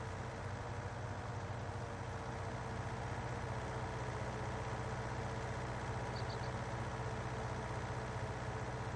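Kubota tractor engine in the Farming Simulator game, pulling a finish mower on a steep slope, idling and droning steadily at a constant level with a low rumbling hum throughout and no talk.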